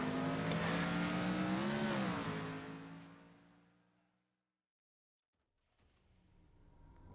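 In a racing video game, the Speedbird GT's engine revs loudly with strong harmonics and sweeps through a gear change. It then fades away to silence and returns faintly at the end.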